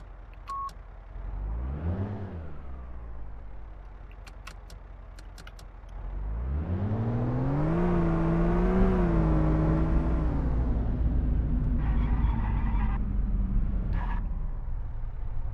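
A car engine in the driving game City Driver starts, idles, then revs up in a rising, sustained drone that eases back down, with brief interface beeps alongside.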